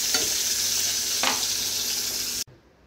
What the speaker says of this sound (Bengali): আর এখানে বেগুন ভাজা হচ্ছে